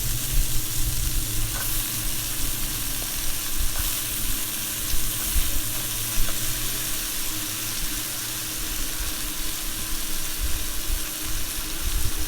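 Potatoes frying in a pan over a medium gas flame are stirred, giving a steady, continuous sizzle with soft scraping and clinking of the spoon, close and even throughout with no talking.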